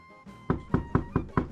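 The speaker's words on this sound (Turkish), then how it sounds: "Kapıyı tıklatalım." Knuckles rap on a wooden door of a stone tower in Mestia, Georgia: five evenly spaced, solid knocks, close and clear, with nobody speaking.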